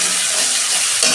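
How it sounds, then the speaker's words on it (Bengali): Ginger, garlic and dry chili paste hitting hot oil with fried onions, a loud, steady close sizzle that swells slightly near the end, with no voices. "আমি আদা রসুন আর শুকনো লঙ্কার পেস্ট দিচ্ছি"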